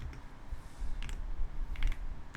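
Computer keyboard keys tapped in a few quick bursts during a web coding session, faint and close against a low room rumble.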